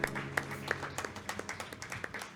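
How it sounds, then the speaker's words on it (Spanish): A church congregation applauding during worship, a lively patter of many hands with a few crisp, closer claps standing out in a loose, quick rhythm. "Apláudale al Señor, apláudale, dale un fuerte aplauso."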